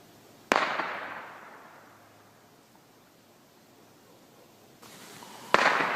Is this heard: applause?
no